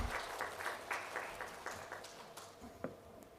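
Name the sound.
audience applause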